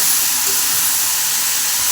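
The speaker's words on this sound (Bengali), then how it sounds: "আমার কষা হয়ে গেছে, আমি এবার জল দিয়ে দিচ্ছি" Water poured into a hot pan of Bengali fish kalia with cauliflower and potato throws up a steady, loud, broadband sizzle and hiss that carries evenly through the whole stretch without a break.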